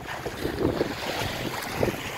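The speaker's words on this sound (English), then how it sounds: "We are getting pounded by these waves" Strong wind roars over a sailboat on Lake Superior while waves pound the hull, a steady rough wash with gusty buffeting across the microphone and occasional louder slaps of water.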